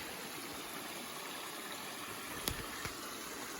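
Steady broadband rush of flowing creek water at a campsite, close and continuous, with a couple of small splashes or knocks near the end.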